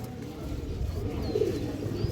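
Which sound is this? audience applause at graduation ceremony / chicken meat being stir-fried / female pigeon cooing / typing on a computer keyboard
female pigeon cooing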